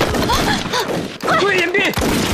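Rapid gunfire crackles through a battle scene in a Chinese war film about guerrillas fighting Japanese troops, dense shots layered with shouting voices.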